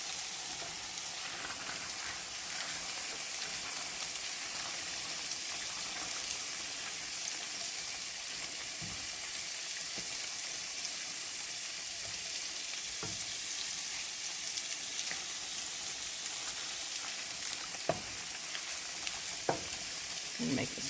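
Spinach wilting in a tofu tikka masala sauce in a pan, a steady soft sizzle and hiss with occasional faint stirring clicks and scrapes, and no talk.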